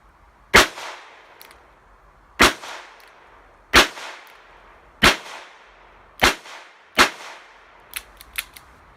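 Six sharp gunshots from a Charter Arms Pathfinder .22lr revolver fired double action at soda cans, spaced about a second apart and each ringing briefly, followed by a few lighter, quicker metallic clinks at the end; no talking.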